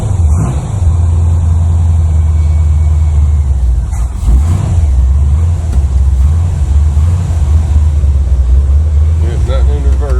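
A 1981 Chevrolet Malibu Classic barn find with its engine catching and then running at a steady, loud idle close by, a continuous low rumble that holds for about ten seconds.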